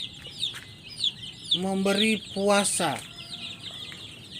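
Young chicks in a coop peep in a high, busy chatter, with a few louder clucking calls in the middle, while someone speaks nearby.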